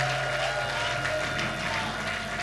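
A church congregation applauds and acclaims during a worship service, producing a thick, continuous wash of clapping and voices at a moderate, even level for the whole stretch.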